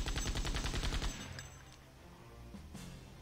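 Gunfire in the video game Septerra Core: a rapid burst of shots rattles for about a second against an enemy, then fades into quieter game ambience with a couple of faint hits.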